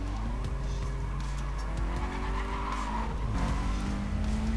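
Tires squeal and skid as a car spins its wheels in the racing game Need for Speed World, with a steady engine drone underneath, loud and continuous throughout.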